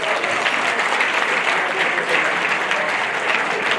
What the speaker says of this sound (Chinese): 我们给他鼓掌